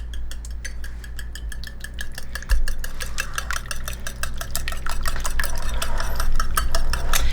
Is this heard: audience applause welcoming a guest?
no